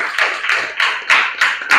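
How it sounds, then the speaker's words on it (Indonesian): Clapping from a classroom group of teachers in training, applauding a student group's presentation; short bursts of hand claps rising and falling in rhythmic pulses, fairly close and loud. "tepuk tangan untuk kelompok 1"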